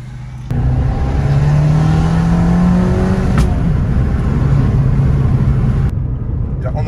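An Abarth car engine revs and pulls away, a loud steady rising drone close by from start to finish with a brief lift partway through, then easing off near the end.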